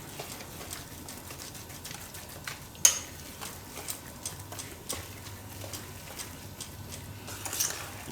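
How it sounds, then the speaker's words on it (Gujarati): A spoon stirs and mixes ingredients into coconut for a coconut cake, soft scraping with light clinks against the bowl, one sharper tap near the start, fairly quiet and close with no talk. "અને મિક્સ કરી લઉં નારિયેળામાં."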